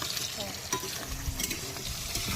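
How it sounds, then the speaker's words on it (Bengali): Onions sizzle and are stirred in a pan over a makeshift riverside stove in the Sundarbans, a soft frying hiss with a few scraping stirs and knocks, fairly close. "পেঁয়াজটা হালকা একটু ভাজা হোক"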